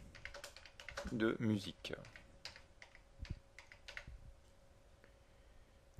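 Rapid computer keyboard typing, a quick run of close clicks followed by sparser taps, with a person speaking French over part of it.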